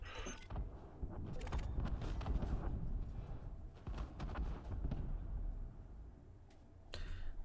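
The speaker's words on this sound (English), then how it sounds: "I'm hearing lots of explosions." Repeated muffled explosions from jettisoned cargo canisters bursting in space during mining in Elite Dangerous, a dense run of thumping blasts with low rumble, steady and fairly loud throughout with brief lulls.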